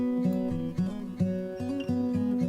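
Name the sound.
processed acoustic guitar riff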